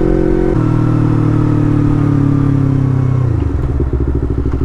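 Yamaha MT motorcycle with an R25 engine being ridden, a loud steady engine drone close by that drops in pitch partway through as the rider eases off, with some wind and clatter.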